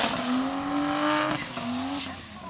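A drift car spins out during a competition round at Mondello Park, its tires squealing in a long sustained screech over the steady roar of its engine, loud and close throughout.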